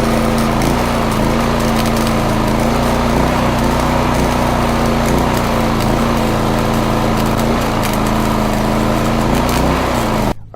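An arc welder drawing power from a Predator 4400 watt inverter generator on a 30 amp plug: a loud, continuous crackling buzz of the arc over the engine's steady drone, stopping abruptly at the end.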